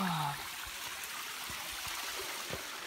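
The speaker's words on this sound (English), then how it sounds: "And here's, well, the lower waterfall, gonna call it that" A small waterfall at Myrtle Gully Falls in Tasmania rushes as a steady, moderately faint hiss of falling water, with no talk over it.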